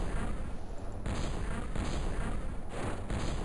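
Heavy weapon fire at a Sectopod in a modded XCOM game, a dense roaring barrage of blasts with several sharper bursts around each second, continuous and loud with no talking.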